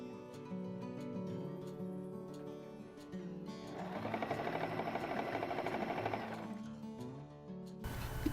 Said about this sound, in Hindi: और इसके बाद इसके ऊपर सिलाई लगाऊंगी मैं